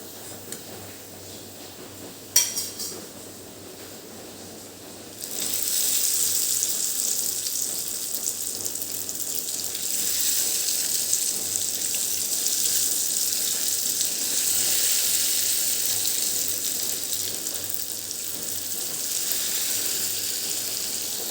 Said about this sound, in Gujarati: આ રીતે આપણે બધા સેવ રોલ તળી લઈશું